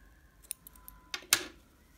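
Scissors snipping crochet yarn at a baby cardigan collar: a few faint light clicks and then two crisp cuts close by, quiet and brief.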